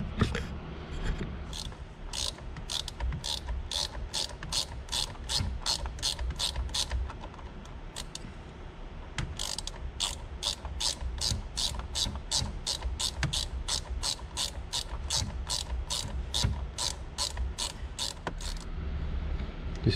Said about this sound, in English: Now we're gonna remove second bolt from the right side.